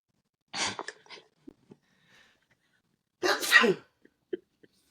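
Two loud sneezes burst out in a quiet room, separated by a few seconds, with faint small sounds in between.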